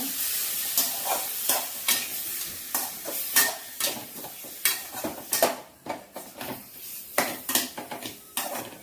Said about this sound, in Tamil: சிக்கன் போட்டதுக்கப்புறம் நல்லா கிளறி விட்டுக்கோங்க